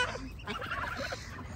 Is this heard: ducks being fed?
yes